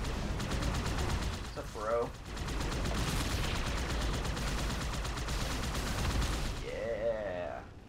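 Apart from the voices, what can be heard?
gunfire in the video game Halo 2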